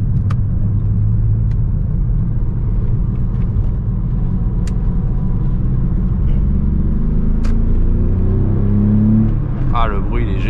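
Close engine rumble of a Porsche 911 (996) sports car held at a steady, throaty idle, with people talking over it and a brief rev near the end.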